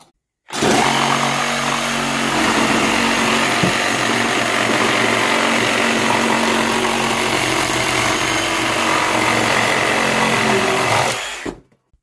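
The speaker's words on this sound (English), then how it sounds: "we're about to do an insane drill challenge" Power drill running flat out in a drill challenge, one loud continuous whine held steady for about eleven seconds before cutting off abruptly.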